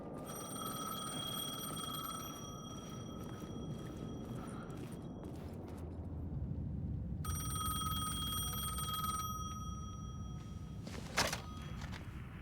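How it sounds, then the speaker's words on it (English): A payphone in the video game Alan Wake 2 rings in repeated electronic bursts, medium distance, with quiet ambient hum and a gap between rings, no speech. "The payphone was ringing."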